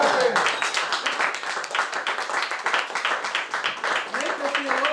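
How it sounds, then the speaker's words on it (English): An audience claps steadily and fairly close for the whole stretch, a dense patter of many hands, with cheering voices and someone calling out over it. "Keep clapping!"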